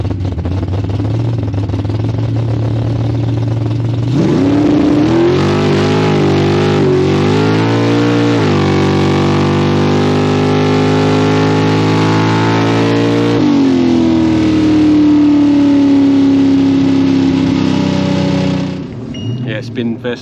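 A drag race car on radial tyres launches at a Kenda Series event. The engine roars loud and close, and its pitch climbs and shifts in surges as the wheels spin for about fifteen seconds before it cuts off.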